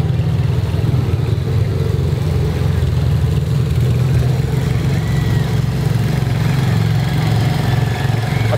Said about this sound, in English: That's a serious tractor.